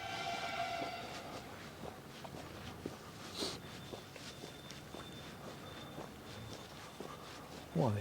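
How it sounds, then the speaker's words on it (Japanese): A Tobu Railway train pulls into Hanyu Station, a steady rumble of wheels and rails with a brief high squeal and a horn-like tone, heard from a short distance amid outdoor ambience and passing footsteps. "なんか今電車が到着しましたね"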